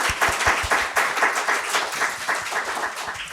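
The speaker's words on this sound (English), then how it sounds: "join us in applause for thanking Frontiers for their support to this event" Audience applause at a conference fills the room, a dense steady burst of many hands clapping at close range with no talking over it.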